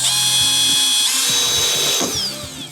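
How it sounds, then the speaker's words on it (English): A power drill fitted with a 1/8 inch bit bores a hole during a bolt-on wing install on an XL Crazy Cart, giving a loud, steady motor whine that shifts pitch near the end as it breaks through. "Take this little drill bit and start to drill."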